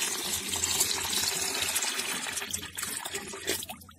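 Water being poured to dilute a homemade plant fertilizer made from neem, pongamia, ajwain, giloy and calotropis leaves, a continuous close splashing and gurgling stream that tapers off near the end.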